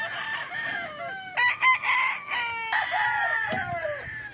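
A pure yellow-legged hatch gamefowl rooster crows close by in several drawn-out calls, with clucks and other fowl sounds mixed in among farm birds.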